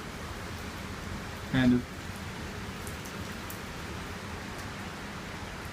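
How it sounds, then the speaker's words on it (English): Typhoon Phanfone rain pours steadily in Tokyo, an even, hissing wash of falling water, with a brief spoken comment partway through. "you can kind of see the general direction of the rain."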